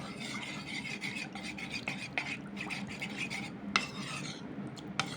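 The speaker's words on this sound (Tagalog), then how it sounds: "Stir lang po natin siya ng ganyan." A utensil scrapes and stirs a coconut milk and custard mixture in a cooking pot, steady rasping swirls with occasional sharper clinks against the metal, close and moderately quiet.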